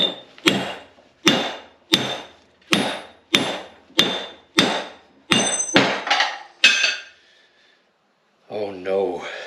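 Ten sharp, ringing hammer blows strike metal at a steady rhythm during a LeTourneau Tournapull D gearcase rebuild, loud and close, then stop; a voice speaks briefly afterward.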